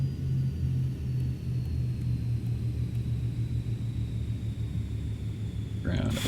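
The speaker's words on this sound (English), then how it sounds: "The engines wind down." Twin jet engines of an Eclipse 550 spool down in the X-Plane 11 flight simulator, a steady low rumble with a thin high whine that holds, then ends in a brief clatter.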